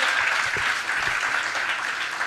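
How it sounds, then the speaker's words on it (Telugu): Church congregation clapping loudly together, a dense, continuous burst of applause that fills the whole moment without a break. "గట్టిగా చప్పట్లు కొడదాం."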